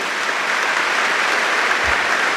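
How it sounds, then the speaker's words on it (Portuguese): An audience at a Catholic priest's talk claps together in steady, dense applause that holds at an even level for the whole stretch, with no talking over it. "Então aplauda esse Deus aí"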